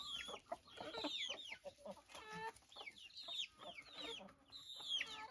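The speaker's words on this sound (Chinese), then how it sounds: "所有的鸡都在这里了。 大大小小一起20只左右。" A flock of about twenty chickens, large and small, clucks and squawks close by on a rural farm, with overlapping calls and bursts coming in an irregular, busy rhythm.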